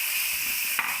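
Asian pennywort juice poured into a pot of hot fish curry gives a steady, close steamy hiss with a soft brief splash near the end; no voices.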